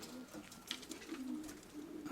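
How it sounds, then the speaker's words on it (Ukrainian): Soft pigeon coos repeat over a steady outdoor hum, low and murmuring, with faint chirps and rustle around them. "Гуляють голуби."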